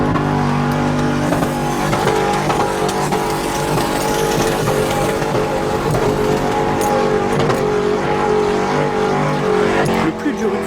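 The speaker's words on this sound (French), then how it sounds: "les centaines de véhicules qui roulent à toute allure là-dedans" Hundreds of vehicles race up desert dunes at a festival in the United Arab Emirates, their engines roaring and revving continuously and close by, with a voice talking over the din.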